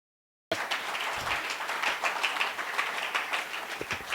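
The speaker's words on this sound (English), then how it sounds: "Hand clap it up for Devin." An audience at a community forum breaks into hand clapping for Devin, a photographer. The applause starts abruptly after a brief silence and continues as steady, fairly close clapping from many people.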